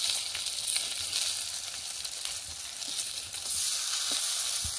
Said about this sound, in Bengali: আমি এবার এটাকে অপর পিঠে ভেজে নেব